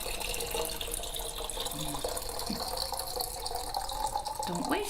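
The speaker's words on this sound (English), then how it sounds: "We're gonna pour the stop bath back into the container." Photographic stop bath liquid is poured back into its container, a steady trickling, splashing flow heard close and quiet, with a few brief clinks and faint background sounds.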